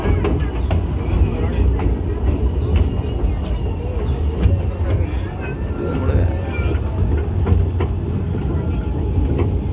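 A passenger train of about seven or eight coaches runs on rails in Trivandrum, giving a steady rumbling roll with periodic clacks throughout, while a voice talks over it.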